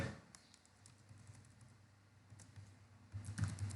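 Faint, quick clicking of computer keys typing text during a CSS coding lesson, soft and scattered, growing slightly busier toward the end.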